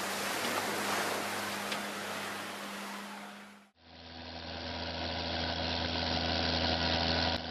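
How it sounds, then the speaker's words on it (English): A Cat 938G wheel loader with a 145-horsepower Cat 3126 six-cylinder turbocharged diesel idles close by, a steady rumbling drone. The tone shifts abruptly midway to a different, harsher idle with strong low hum. "This is a Cat 938G with a Cat 3126 6-cylinder turbocharged engine, 145 horsepower, automatic transmission,"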